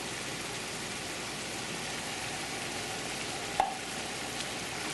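Eggs and canned cream of mushroom being stirred in a pan, a steady sizzling, frying hiss throughout with one brief utensil clink partway through, no talking.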